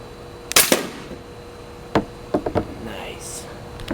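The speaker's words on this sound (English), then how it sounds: "My gun's on 120 psi and we're shooting the metal bar" A homemade airgun charged to 120 psi fires at a metal bar, giving a sharp pop followed by several quick cracks and knocks, spread over a few seconds in a quiet setting, with faint whispery voices between.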